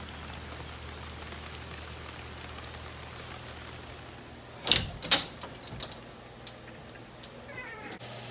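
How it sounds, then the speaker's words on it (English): Rain falling outside on a wet, muddy day, a steady soft hiss throughout with a few sharper nearby taps and drips around the middle. "It is raining and muddy."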